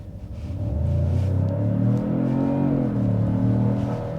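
A Genesis G80 2.5T turbo engine in sport drive mode with strong active sound design rumbles deeply from inside the cabin, swelling as it accelerates and holding a steady, raspy drone for several seconds.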